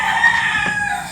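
A chicken being held by hand gives a short, close cluck-like call, brief and fairly loud, with no talking.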